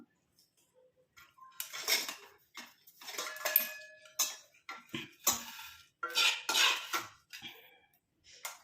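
A blackened herbal mixture is strained through a sieve and pressed, with repeated clinks and scrapes of utensils against metal, close up and irregular, with no talk.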